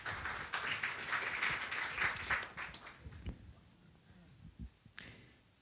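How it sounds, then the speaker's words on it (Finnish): Audience applause at a Finnish health-services idea workshop: dense, lively clapping from a crowd for about three seconds, then thinning to a few scattered claps and quiet room noise. "annetaan aplodit"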